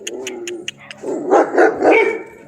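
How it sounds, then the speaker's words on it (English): Several dogs, including a Doberman, bark and yip outdoors in the morning. Quick high yaps come first, then deeper, louder barks overlap close by. "I have everyone barking."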